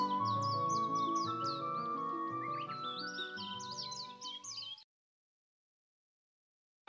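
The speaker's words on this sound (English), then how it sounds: "the birds began singing as if they responded to their voice either here or there" Birdsong fills the first five seconds with dense, overlapping high chirps and warbling trills over a steady tonal backdrop, then cuts off abruptly to silence.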